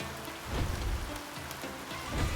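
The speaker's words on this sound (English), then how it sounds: "Ooh, raining already. Oh, nice weather effects." Steady rainfall from the weather effects in the Roman city-builder game Pompeii: The Legacy, a dense, even patter of rain on surfaces with no voices.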